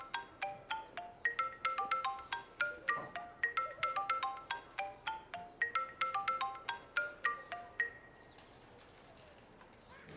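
A telephone ringtone plays a repeating chirpy electronic melody of short bright notes, looping steadily for about eight seconds before stopping, clear and alone without talk.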